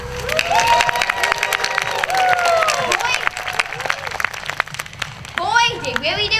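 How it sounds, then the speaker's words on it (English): An entertainment-night audience bursts into applause and cheering, mixed clapping and shouts with children's voices, while people talk over the noise. "please give me a round of applause"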